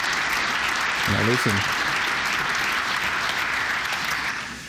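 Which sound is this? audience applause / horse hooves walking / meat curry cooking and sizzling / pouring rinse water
audience applause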